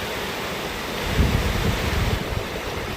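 Strong wind and heavy rain at a railway station, a loud, steady broadband roar that swells with a gust partway through, with no voices.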